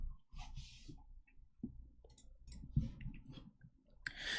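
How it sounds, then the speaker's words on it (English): Mechanical keyboard keys clack in quick, irregular bursts of clicks, close and fairly quiet, with short pauses between typing runs. "Same, so satisfying to listen to. You guys like the keyboard a lot?"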